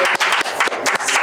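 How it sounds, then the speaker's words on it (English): An audience claps hands in welcome for a guest arriving on a podcast set, a close, lively burst of applause with uneven rhythm that fills the whole moment. "This is where you clap hands."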